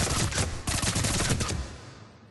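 Rapid full-auto bursts from the Tempest submachine gun in Mass Effect 3 target practice, loud and dense for about a second and a half, a brief gap, then another burst trailing into fading echo.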